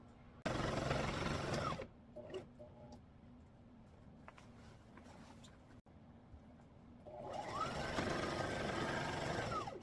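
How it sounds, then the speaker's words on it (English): A sewing machine runs in two loud bursts, stitching quarter-inch seams along the sides of curtain fabric, separated by a quieter pause filled with faint handling clicks. "Now we are just going to stitch along the side, down, up, and around."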